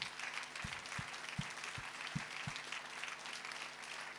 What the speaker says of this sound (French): ne soyez pas sobre dans vos applaudissements